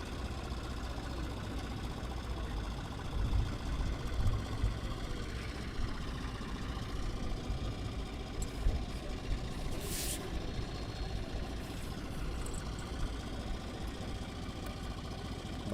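A tug tows a Buccaneer aircraft, its engine giving a steady, continuous mid-pitched rumble with faint intermittent clanks and a brief hiss partway through.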